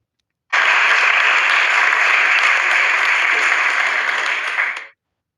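An audience at a speaking event and conference breaks into steady applause as a speaker leaves the stage, a dense, even wash of many hands clapping that starts abruptly and cuts off after about four seconds.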